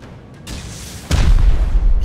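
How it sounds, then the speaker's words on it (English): Rocket explosions go off during a raid in the video game Rust, a loud booming blast with a deep rumbling tail following a lighter thump. "A rocket raid!"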